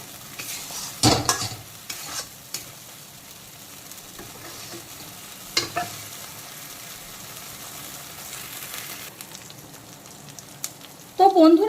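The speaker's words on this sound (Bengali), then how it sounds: "এইভাবে ঘন ঘন নাড়াচাড়া করতে হবে" Green banana peel paste being stirred often as it fries in a wok, with a spatula scraping and clattering in bursts over a low steady sizzle, ending in a louder flurry of scraping.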